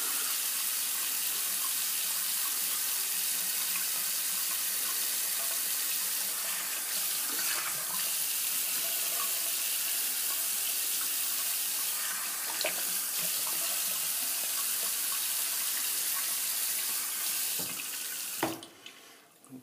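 Hot water runs steadily from a bathroom sink tap during a wet shave, a close, constant rushing stream with a few splashes near the end as it is cut off, with no voices.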